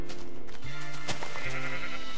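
A sheep in the video game Minecraft bleats twice in quick succession, clear and close. The calls are short and nasal.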